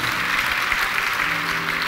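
A church congregation applauds during an Ascension Day service, a steady, dense wash of many hands clapping at even volume throughout, with a faint murmur of voices beneath.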